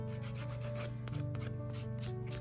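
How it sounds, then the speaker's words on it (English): Fingernails being filed and buffed with a 100/180 emery board to rough up the surface and remove leftover gel glue, a continuous close rasping rub with steady back-and-forth strokes and no talking. "I'm gonna file my nails. I do buff them, trying to get the extra gel,"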